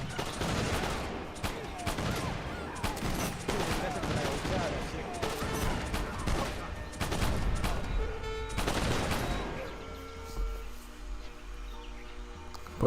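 Rifle fire rattles in the Age of Empires 3 video game, with dense volleys of overlapping shots and crackling battle noise through most of the stretch before it eases into quieter game ambience, while commentators talk over it.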